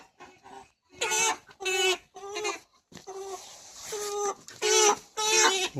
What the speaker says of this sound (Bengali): বন্ধুরা দেখো মুরগি কীভাবে ধরে